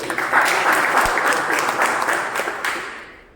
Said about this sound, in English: Huge round of applause for all of them